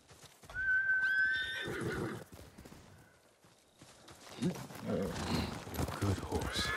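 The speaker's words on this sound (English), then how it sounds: "Good horse." A horse in the samurai video game Ghost of Tsushima lets out a loud, clear whinny, followed by snorting and a few clip-clopping hoofbeats, with someone speaking briefly over the later hooves.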